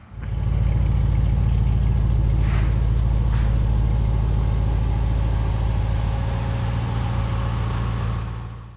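A car with a custom exhaust idles and rumbles while backing slowly up a driveway, a deep, steady engine drone close by, briefly revving before settling and tapering off at the end.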